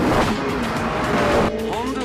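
A 2006 Honda Civic Type R drives hard and accelerates, its engine note loud and steady throughout, with a brief tyre squeal near the end.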